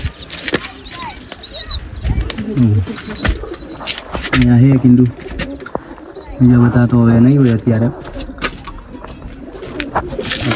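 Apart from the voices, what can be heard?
pigeons cooing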